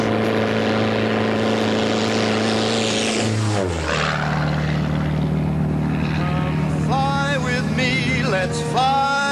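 A propeller stunt plane flying low and upside down drones steadily and loud, then its pitch swoops down as it passes close overhead, with a few higher tonal whines near the end.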